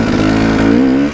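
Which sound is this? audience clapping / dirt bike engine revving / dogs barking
dirt bike engine revving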